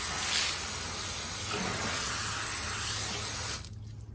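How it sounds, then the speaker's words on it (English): Water sprays steadily onto a dirty Jeep Cherokee Trailhawk tire during a first rinse, a constant loud hissing wash close by that cuts off abruptly near the end. "All right, give it its first rinse. Yeah, tons of dirt coming off."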